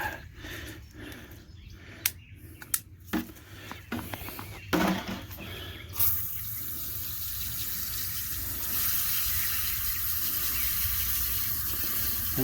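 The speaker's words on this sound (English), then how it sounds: "we gotta go over here to the water hose and try to get some of this dirt off here" Water from a garden hose rinses dirt off young plants, starting with a few bursts and splashes, then settling into a loud, steady gushing spray close by.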